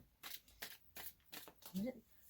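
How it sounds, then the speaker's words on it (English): Tarot cards riffle and flick in several quick bursts of shuffling, fairly close and quiet, with a voice briefly murmuring near the end. "I'm going to shuffle until I'm feeling like I don't need to"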